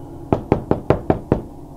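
Six sharp knocks on a door, evenly spaced and fairly close, ring out against a quiet room with no one talking.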